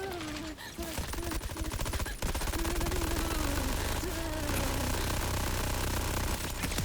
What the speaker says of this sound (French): c'est vrai que j'ai une tourelle